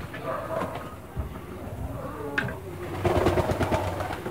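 Pigeons coo softly in a flyers loft, several low throaty calls repeating close by, with light rustling and shuffling of birds in the background.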